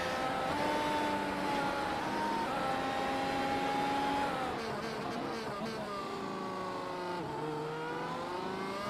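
Onboard a race car on a hot lap at the Magny-Cours circuit in France, the engine holding a steady high whine, then shifting pitch through gear changes and braking, loud and continuous.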